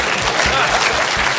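Studio audience on a comedy panel quiz show bursts into loud, close clapping and laughter, a short dense burst with some voices mixed in.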